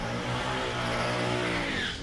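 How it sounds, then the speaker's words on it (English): A Holden LX Torana doing a big burnout on the start line at a street drag challenge, with a steady, loud engine roar and tyre scrub filling the whole stretch and no pause. "Big burnout from Dave Bunnick from Cassidy in the LX Tuana"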